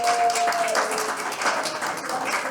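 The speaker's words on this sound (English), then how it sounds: "somebody's cheering in there." Crowd in a hall at a chess tournament, the Boston Open, breaking into scattered cheering and applause, a steady diffuse wash of claps and voices throughout, moderately loud and somewhat distant.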